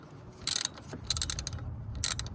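A wrench tightens the nut on a 2015 Subaru Forester A/C clutch, giving three quick, bright bursts of metallic ratcheting clicks, close up and with no talking.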